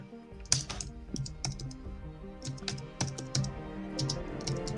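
Someone types steadily on a computer keyboard nearby, a quick irregular patter of key clicks with a few louder strikes, heard alone at a modest level.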